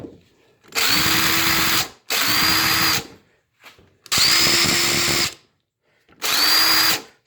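An old, worn Ridgid power drill with tired brushes runs in four loud, close bursts of about a second each, whining up and spinning down between pulls of the trigger, with no talking.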